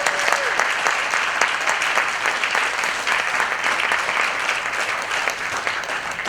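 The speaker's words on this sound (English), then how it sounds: "So give these seniors a big round of applause." A school band and jazz band concert audience gives the graduating seniors a big round of applause, a dense, steady wash of clapping filling the hall for several seconds.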